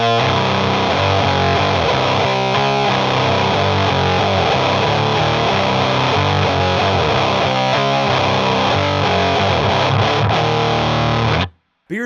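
A Boss HM-2 distortion pedal with every knob turned fully up, producing a loud, thick, buzzing saw of heavily distorted electric guitar chords that plays continuously and then stops abruptly at the end.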